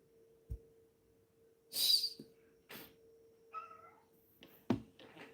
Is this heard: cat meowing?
yes